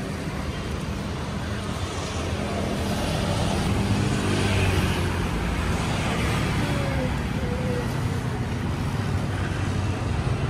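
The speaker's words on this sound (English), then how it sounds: "But the traffic doesn't seem too insane here." Dense, constant street traffic in Central Jakarta forms a broad roar of passing cars and trucks at middle distance, with faint voices mixed into the wash.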